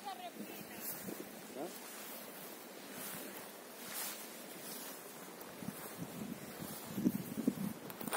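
Sea of Azov waves roll and crash steadily on the shore while wind gusts buffet the microphone, with faint voices in the background.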